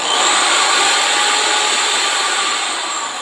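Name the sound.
KYK impact drill running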